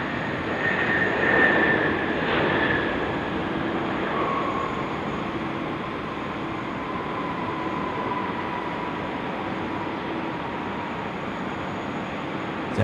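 A DHL Kalitta cargo plane landing on runway 16 right at Sydney Airport, a steady broadband jet roar with a faint whining tone, distant and sustained, swelling slightly early then holding level throughout.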